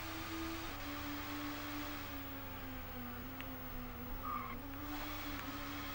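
Touring cars, including a Renault Megane and a Peugeot, race on a circuit in Toca Touring Cars on the Sony PlayStation. A steady engine drone shifts pitch, joined by brief tire squeals over constant road noise.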